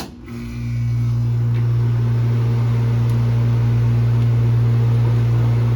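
A small appliance motor, fitted with a weak 13.7 capacitor where a 15 is likely called for, starts up after being plugged in and settles into a loud, steady electric hum with a strong low drone that runs unbroken to the end.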